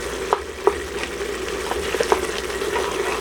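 Masala spices fry in oil in a pot for mutton daliya, a low, bubbling sizzle broken by a few sharp stirring scrapes and knocks, close by and with no voices.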